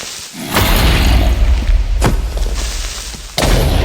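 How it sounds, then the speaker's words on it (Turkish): Creeper explosion in Minecraft: a loud, close boom with a long crackling roar, followed by a second sharp blast and another burst near the end. "Patlat creeperları."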